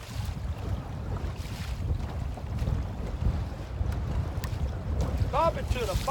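Strong wind buffets a boat while fishing for white perch in high winds, gusts rumbling loudly against the microphone with a continuous rushing roar, and a few faint higher calls near the end.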